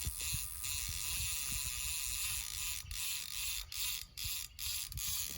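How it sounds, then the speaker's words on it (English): Fishing reel clicker (ratchet and pawl) rattling steadily as line is pulled out on a fish run, a fast continuous clicking that stutters and briefly pauses near the end, fairly close and moderately quiet. "let me show you what I do when I'm using the clicker"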